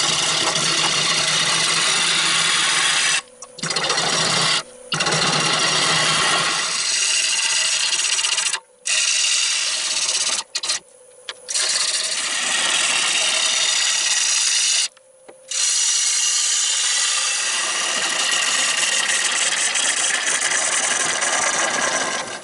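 A wood lathe turns a spalted hackberry blank at 800 rpm, the tool scraping in a loud continuous rasping whir, broken by several brief pauses as the cutter lifts off the wood.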